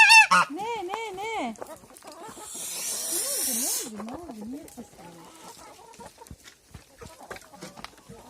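Geese honk loudly and close by in repeated wavering calls, followed by scattered softer fowl noises and rustling.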